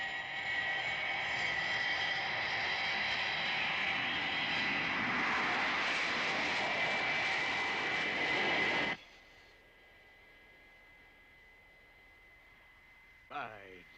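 Jet aircraft roaring loudly through takeoff and acceleration in a Thunderbirds TV episode, a steady broadband blast that cuts off abruptly, leaving a quiet hum and a brief sweep near the end.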